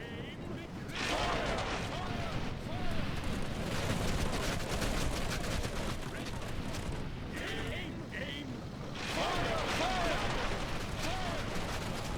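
Missile units loose volleys amid the din of a Lord of the Rings real-time strategy battle, with dense, continuous combat noise, repeated sharp bursts and shouting voices throughout, loudest near the start and end.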